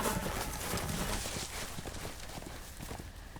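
Horse hooves clip-clop in the Game of Thrones video game episode Iron from Ice, a quick run of hoofbeats over a steady ambient bed, moderately close and fairly even in rhythm.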